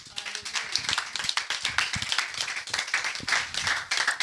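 A church congregation at a French-language prayer day claps together to acclaim the word of God, a steady run of fairly close, bright handclaps lasting the whole stretch, with voices mixed in beneath.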